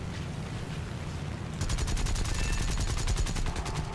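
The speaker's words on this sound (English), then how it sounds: "So we'll switch to machine gun." Machine gun fire in War Thunder, a World War II aircraft combat video game, bursts in as a loud, rapid, evenly spaced stream of shots over a steady engine drone.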